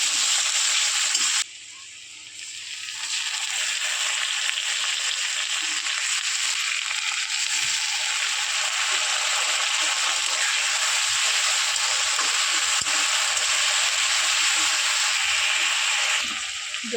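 Onions frying in oil with whole garam masala until they turn reddish, a loud continuous sizzle that holds steady for the whole stretch after a brief quieter dip near the start.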